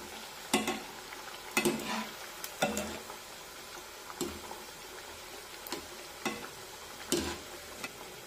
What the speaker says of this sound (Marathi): आता कापण्या तेलात टाकल्यानंतर एकसारखं यांना झाऱ्याने असं हलवून घ्यायचं, म्हणजे मग सगळीकडून त्या एकसारख्या तळल्या जातात.